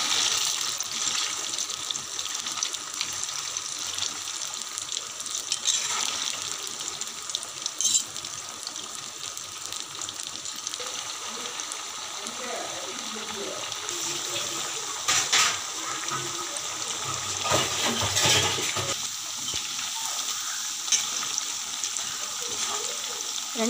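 Pieces of colocasia (taro root) fry in hot oil with a steady bubbling sizzle that holds throughout, joined by occasional clinks and louder bursts in the middle.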